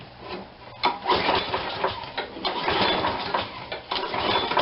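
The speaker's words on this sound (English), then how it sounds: "For such a good running engine." A small Briggs & Stratton gas engine with a faulty primer plate runs loudly and unevenly, revving and sputtering with a rough, rattling drone throughout.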